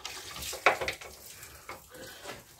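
Hot coolant water gushes from a car radiator as the drain is opened during a cooling-system flush, a steady splashing pour at close range with no talk over it.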